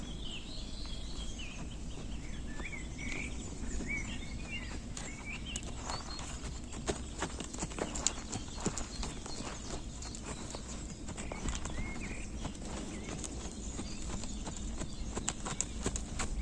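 Hooves clip-clop steadily throughout a riding lesson as a horse is worked in an arena, with birds faintly audible in the background and no talk over the rhythmic footfalls.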